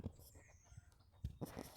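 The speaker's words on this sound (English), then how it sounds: "And there's a duck quacking outside." A duck quacks outdoors, heard faintly and from a distance as a few short, scattered calls over a quiet background, with a louder pair of bursts near the end.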